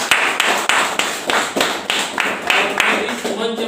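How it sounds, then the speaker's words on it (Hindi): An audience at a hall meeting claps loudly in rhythmic unison, roughly three strong beats a second, close and sustained, with a voice speaking underneath. "जोरदार ताली बजाइए।"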